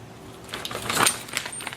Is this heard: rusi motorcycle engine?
no